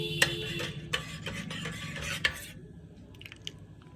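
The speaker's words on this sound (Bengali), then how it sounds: "আর কফিটা নাড়ব শুধু কফি দুধ আর কফি" A spoon stirs coffee with milk in a cup, giving a few light clinks against the sides over soft swirling, close and fairly quiet, with no talking.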